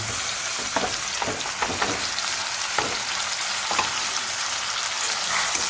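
Green garlic, onion and tomato fry in hot oil with cumin, giving a steady, dense sizzle with occasional clicks and scrapes of stirring. The sound is close and continuous, with no voices.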